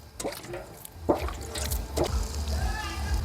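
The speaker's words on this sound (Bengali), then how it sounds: "বাকি রাইসটুকু দিয়ে দেব গোলাপ জল কেওড়া জল" Rose water and kewra water poured over layered rice for hilsa biryani, a few soft splashy pours and drips, close and fairly quiet, with low background rumble and a voice briefly audible.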